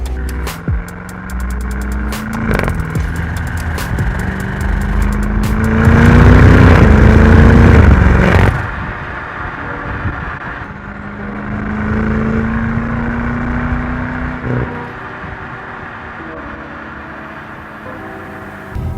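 A BMW 650 Gran Coupe on the road, its engine and road noise droning steadily, swelling into a louder acceleration surge midway before settling back to a lower cruising hum.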